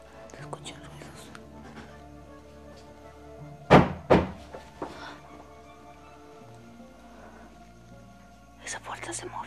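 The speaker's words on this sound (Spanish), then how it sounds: "Esa puerta se movió." A couple of sharp thumps from a door moving or knocking in a castle, with faint whispering and rustling around them in a quiet room.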